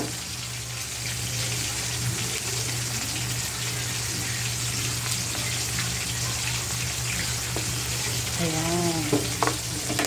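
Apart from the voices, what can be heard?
fish and shrimp for sinigang sautéing in a pan without oil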